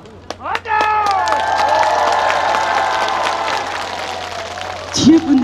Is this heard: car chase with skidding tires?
no